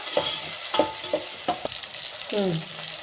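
Tomatoes are stirred into softened onions in a pan for chicken curry. A few distinct scraping strokes of a spoon sound over a soft sizzle, ending in one longer sweep.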